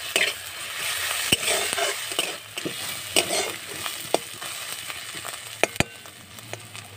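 Ginger, garlic and green chili paste frying in a pan for a cabbage dish, a steady close sizzle with sharp clicks and taps of a spoon stirring throughout.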